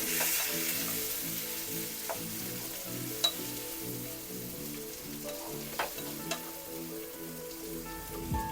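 Onions browned in oil with tomatoes just added, frying in a pan for a Bengali-style vegetable chop: a steady, dense sizzle with a soft rhythmic bubbling underneath and a few sharper pops, close up with no voices.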